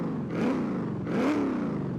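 Stock car engine in Forza Horizon with a standard exhaust, revving twice in smooth rising swells over a steady idle hum, moderately loud and close.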